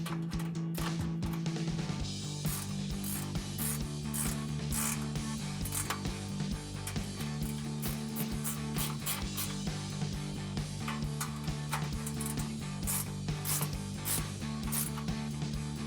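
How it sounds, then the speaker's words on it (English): A 13mm ratcheting wrench tightens bolts on the side step of a Jeep Gladiator JT, a RedRock TC3 HD rocker step install, with steady ratchet clicking throughout over a constant tonal background hum. "take a 13mm ratcheting wrench,"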